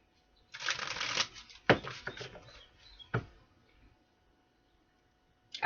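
Tarot cards are shuffled in a few quick riffling bursts, close and crisp, followed by sharp taps as the deck is squared, with quiet gaps between.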